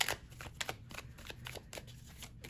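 Tarot cards being shuffled up close, a run of crisp papery riffles and slaps with brief pauses, quiet and alone with no talking.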